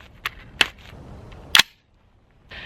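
An AR rifle firing 5.56 green tip rounds at a shooting range, with three sharp, loud reports spaced irregularly across a couple of seconds against a faint outdoor background.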